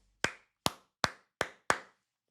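Five sharp, separate hand claps in a slow, even rhythm, each crisp and quickly decaying against near silence, heard as playback from a video.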